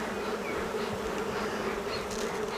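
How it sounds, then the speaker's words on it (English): Dense, steady buzzing of many honeybees around an opened hive during a hive split, loud and close, with no talking. "The smoke helps clear bees away."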